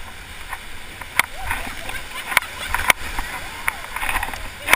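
Raft paddles dig into a river in the Kicking Horse Lower Canyon, giving sharp, regularly spaced splashing strokes over rushing water while a guide calls out commands.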